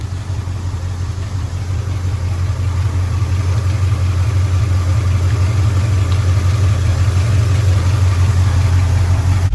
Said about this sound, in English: let the truck run for a minute. Coolant's moving around in there.